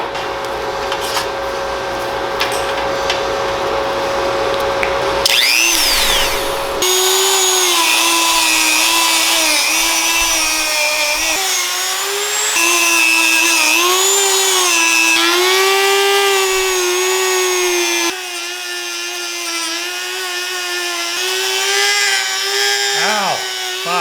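A Dremel rotary tool runs close and loud, its pitch rising and falling as it bogs under load and speeds up again, in a series of sustained whining passes.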